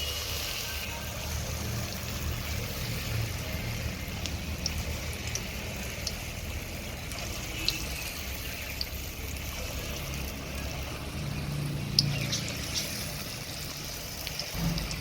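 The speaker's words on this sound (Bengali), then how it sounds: "আর একবার একটু যেগুলো আছে ভেজে নিচ্ছি।" Rice-flour pitha cakes fry in hot oil, with a constant close sizzle and crackle and occasional sharper pops over a steady hiss, at moderate loudness throughout.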